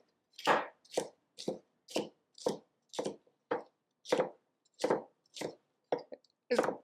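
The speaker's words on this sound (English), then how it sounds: "As you see, I'm doing a lot of chopping" A knife chops food on a cutting board in a home cooking lesson for low-carb dishes, about a dozen crisp, evenly paced strokes close by with silence between them.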